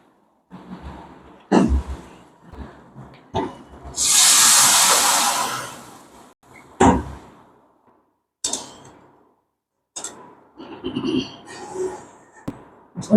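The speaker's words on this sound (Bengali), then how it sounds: "এবার আমি মাছের ঝোলটা ঢেলে দেবো।" Fish curry broth for a thin singi fish jhol pours into hot spiced oil in a pan, a loud sizzling hiss surging for about two seconds among scattered kitchen clatter and knocks.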